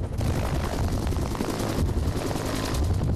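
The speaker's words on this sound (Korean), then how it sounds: "상공을 향해 헬기가 떠오른다." Military helicopter carrying a Marine Corps high-altitude infiltration team lifting off, a loud, steady rotor and turbine roar filling the whole clip with dense low thumping and no voices.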